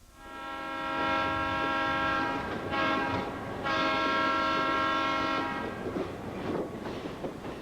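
An Amtrak train on the Washington to New York route passes nearby, a loud sustained horn chord over rumbling wheels and rail clatter, with the horn fading out at the end.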